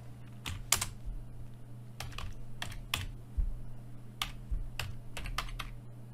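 Fingers type on a computer keyboard in short bursts of crisp key clicks, close and clear over a steady low hum, with no talking.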